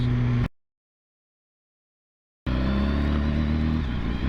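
A stock 2015 BMW S1000RR sport bike engine revs loudly and up close, cutting out to a two-second silence before roaring back with a steady, harmonic-rich howl.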